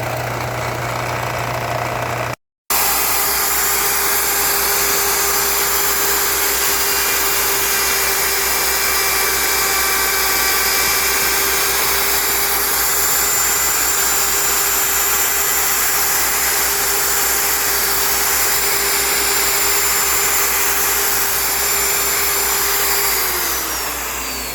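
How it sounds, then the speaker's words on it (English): A belt sander flattening buttons for an arcade control panel restoration runs as a loud, continuous motor roar and belt hiss. It starts after a brief cut and keeps a steady tone close up for over twenty seconds, with no talk. "So this is the belt sander I'm using, guys. Just flattening them out."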